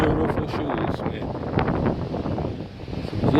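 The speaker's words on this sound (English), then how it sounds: "Windy and cold out." Cold wind gusts outdoors, buffeting the microphone with loud uneven rumbling bursts and a roaring hiss, while a voice is faintly audible underneath.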